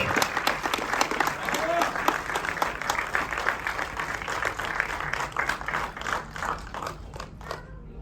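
An audience at a film premiere night applauding, a dense burst of clapping that carries on steadily before tapering off near the end, with a voice heard over it.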